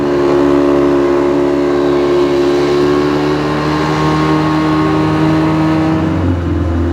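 A boat engine runs at sea off the islands of Indonesia, a loud steady droning hum with a strong low tone, close and continuous with a slight shift near the end.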